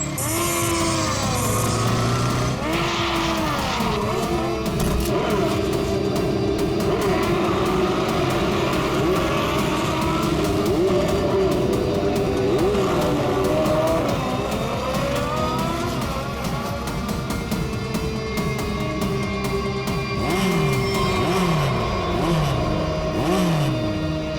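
Motorbikes in a race roar past in a continuous loud blur of revving engines, the pitch sweeping up and down as riders accelerate, with no talking.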